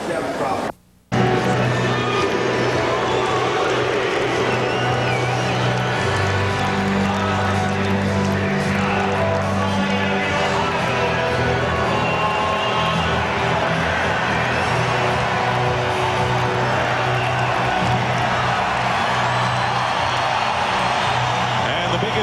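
Basketball arena crowd roaring for Michael Jordan and the Chicago Bulls at a 1997 playoff game against the Bullets, a loud continuous cheer sustained throughout under a broadcaster's voice.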